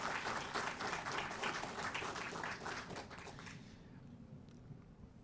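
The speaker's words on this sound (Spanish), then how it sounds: "También recibimos con fuertes aplausos a los representantes de la Escuela de Posgrado de la Universidad Nacional de Ingeniería." Applause from an audience at a university working session with public universities, a dense wash of clapping that holds steady, then fades over the last seconds into a quiet room.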